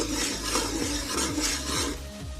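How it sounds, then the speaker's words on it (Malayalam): Manthi masala for kuzhimanthi stirred into a boiling liquid in a cooking pot, heard as close, rhythmic scraping strokes of a spoon against the pot over a bubbling background, with no one speaking. "മന്തി മസാല ഇട്ട് കൊടുക്കാം നമുക്കിതൊന്ന് നല്ലതുപോലെ മിക്സ് ചെയ്യാം"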